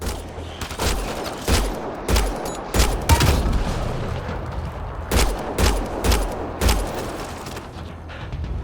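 Sustained firefight in the video game Mass Effect: Andromeda, with repeated loud bursts of gunshots in irregular clusters over a constant rumbling battle background.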